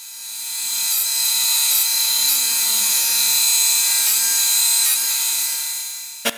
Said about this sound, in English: So just cleaning up that parted off face on the surface grinder